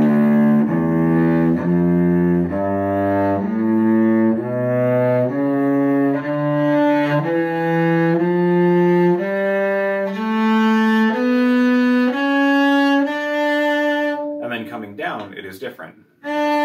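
A cello plays a melodic minor scale ascending, each bowed note stepping upward in a slow, even sequence of sustained pitches, ending in a short scratchy burst.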